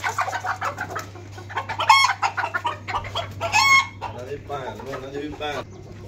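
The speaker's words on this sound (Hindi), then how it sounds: "ये मुर्गा" A rooster crows twice loudly among clucking chickens close by, with people talking over the flock.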